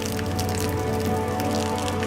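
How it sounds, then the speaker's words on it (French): Steady tropical rain falls in Tanzania, heading toward Kigamboni, as a dense, continuous hiss of drops. A constant low hum runs beneath it and there are no pauses or voices. "Sous la pluie tropicale"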